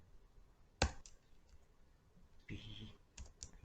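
Clicks of a computer keyboard being typed on during a programming lesson: a sharp loud keystroke, a pause, then a short burst of several quick clacks and a few more taps, all fairly faint.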